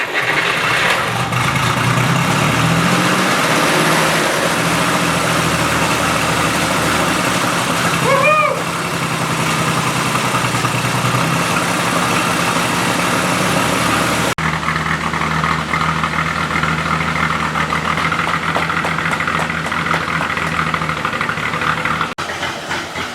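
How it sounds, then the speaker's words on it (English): A 1937 Chrysler engine cranks and catches, then settles into a steady, rumbling idle that runs loud and close throughout, with a brief squeal partway through. "Alright, so we got the car to idle."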